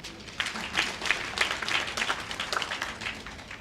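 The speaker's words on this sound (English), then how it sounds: "I think that deserves a round of applause" Audience at a graduation ceremony breaks into applause, scattered distinct claps building into a moderate, fairly distant patter.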